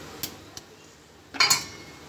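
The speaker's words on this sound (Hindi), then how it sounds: "ये इसको ढक्कन लगा देंगे" A lid is set onto a cooking pot of rice and chicken on high heat, giving a couple of light metallic clinks followed by a louder clattering clank near the end, close and alone.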